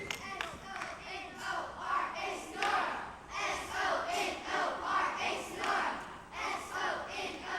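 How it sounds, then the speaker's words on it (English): Fifth-grade children chant a rehearsed class cheer together at a graduation ceremony. Loud group voices shout in rhythmic bursts that rise and fall steadily for several seconds, with crowd noise underneath. "Go ahead, Kiana. Do the cheer."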